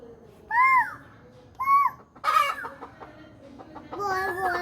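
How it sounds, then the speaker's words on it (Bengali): A chicken clucks close by in several short bursts with gaps between them, then breaks into a longer run of clucking, while a voice speaks faintly. "ওই পাখিটা দেখো তো কেমন করে ডাকছে"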